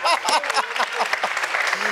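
An audience at a wedding-themed game show lets out high, warbling ululation (zaghrouta) with clapping mixed in, loud and close, in a lively burst of celebration.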